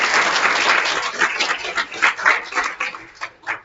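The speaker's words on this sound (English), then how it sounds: "Let's give him a big applause." Applause from the audience at an East Africa tech launch event, steady clapping at first that thins into scattered bursts toward the end, heard without any talking.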